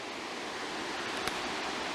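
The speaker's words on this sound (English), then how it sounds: "Looks like a pretty fast flowing creek." Fast-flowing creek with a small waterfall in rain and fog, a steady broadband rushing roar with no breaks, close and continuous.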